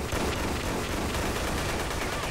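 A loud, unbroken gunfight in the video game Dead Effect 2, with rapid overlapping shots and bursts filling the whole stretch at close range.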